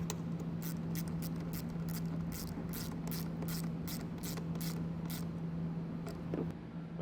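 A ratchet tightening the nut on a battery ring terminal for a towed-vehicle charge line kit, giving a steady series of quick, close clicks with a constant low hum behind it.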